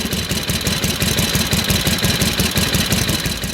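A 1940 Indian Super Scout motorcycle engine idles loudly up close, its rapid, even thumping beat continuous and uninterrupted.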